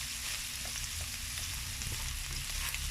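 Strips of bacon frying in a pan while being cooked down for a bolognese sauce, a steady broadband sizzle with light crackles running throughout, close and unbroken, no voices.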